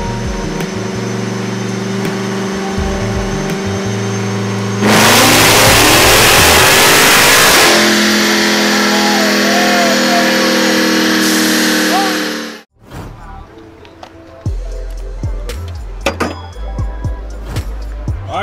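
Dodge Hellcat Mopar engine with a stock Hellcat airbox and Dyno Max exhaust on a dyno at a dyno day: a rumbling idle climbs into a loud sustained full-throttle rev for several seconds, then cuts off and drops back to a lumpy idle.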